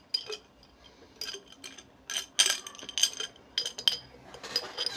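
Metal scissors clink against a glass jar as they are lifted out, a quiet, close series of sharp, bright taps and rattles in irregular bursts with near silence between them.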